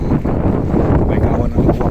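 Gusty seaside wind buffets the microphone in a steady low roar along the Corniche waterfront in Abu Dhabi, with people talking faintly underneath.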